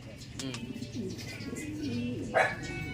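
Racing pigeons coo in low, rolling phrases beneath steady background voices and noise, with a brief sharper call standing out near the end.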